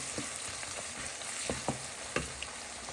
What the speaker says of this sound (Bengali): ঢেঁড়স আর চিংড়ি মাছ অনেক কম সময়ের মধ্যে হয়ে যায়, সেই জন্য এগুলোকে আগে কষিয়ে নিচ্ছি।